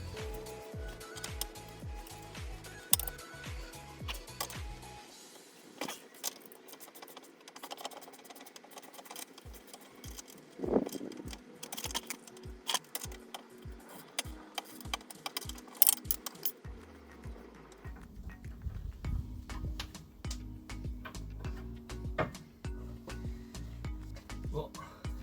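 A wrench with a 5 mm hex bit and a 15 mm spanner works a bolt on the front suspension of a Jaguar X-Type 3.0L, giving repeated rapid ratcheting clicks in bursts, close and fairly quiet, with a voice talking between them.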